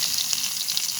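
Chopped onion fries in hot mustard oil in a wok, a dense close hiss of sizzling with small crackles throughout the short moment, without any talking.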